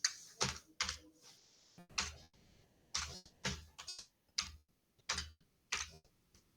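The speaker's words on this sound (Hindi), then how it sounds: "तो सबसे पहले यहां यहां हम टाइप कर देंगे इंट्रोडक्शन।" Typing on a computer keyboard: irregular bursts of close, crisp key clicks separated by short pauses, quiet and alone with no talking.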